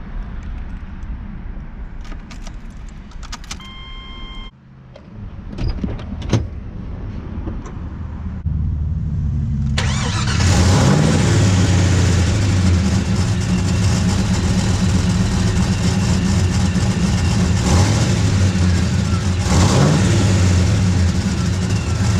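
A Chevy car engine cranks and catches, then idles and pulls away with revving acceleration, loud and close inside the vehicle, with brief background talk near the start.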